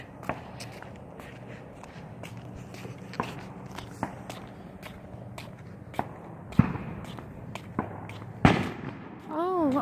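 Fireworks pop and crack in scattered, irregular bursts at a middling distance, some sharper and louder near the end, heard from the middle of a road with footsteps and occasional voices.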